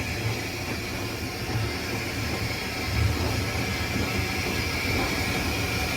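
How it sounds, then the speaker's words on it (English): A steam locomotive's injector runs on the Isle of Wight Steam Railway, a steady hissing rush heard from the cab over the low rumble of the engine, continuous and fairly loud. "So the fireman's got the injectors going at the moment, or one of the injectors."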